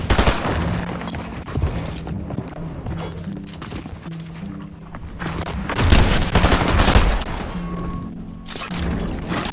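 Fortnite gunfire: dense bursts of rapid game shots and booms, loud and close, coming in waves over a steady background of game sound.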